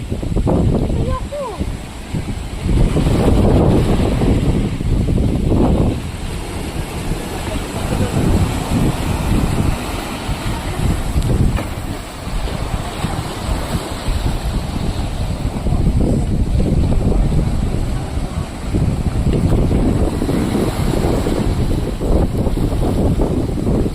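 Strong typhoon wind gusts roar across the shore at the Nasugbu resort, with waves crashing beside moored boats, a steady loud buffeting punctuated by heavier surges while someone talks over it.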